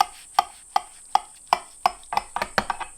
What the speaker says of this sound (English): let's cut this up